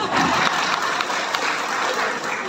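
Sustained audience applause at an Eid halal bihalal religious lecture, a dense, steady clapping from a large crowd filling the space throughout.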